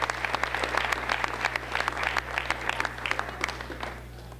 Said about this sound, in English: let's have a big round of applause for all of you